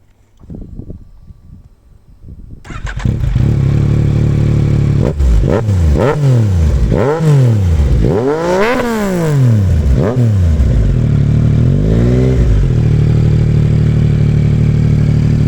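A Yamaha Tracer 900 motorcycle engine sputters, then catches and roars to life, revving loudly several times in rising and falling bursts before settling into a steady, throaty idle.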